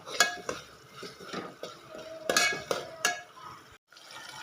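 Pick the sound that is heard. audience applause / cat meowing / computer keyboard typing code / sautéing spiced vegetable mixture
sautéing spiced vegetable mixture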